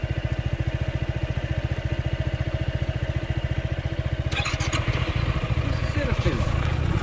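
A 2022 Honda SH 150 scooter engine runs with a steady, rapid thumping idle close by. It grows rougher and louder toward the end as voices talk over it.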